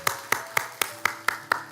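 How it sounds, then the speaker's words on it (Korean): A church congregation at a Sunday worship service claps seven times in a slow, steady rhythm. Each clap is sharp and distinct, with a short ringing tail in a reverberant room, and nobody speaks. "우리 크신 하나님 앞에 박수로 감사와 영광 올려드리겠습니다"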